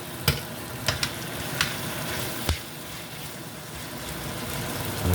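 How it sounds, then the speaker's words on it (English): Grace butter beans stirred in a cooking pot during Jamaican yard-style cooking, a steady close sizzle and bubble broken by a few sharp spoon knocks against the pot. "Just gonna stir this around a little."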